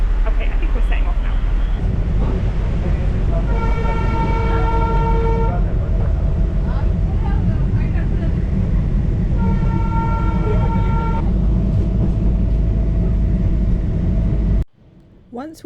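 The Darjeeling toy train sets off from Siliguri, its horn tooting in two long sustained blasts over a loud, steady rumble of the engine and carriages, with voices in the background.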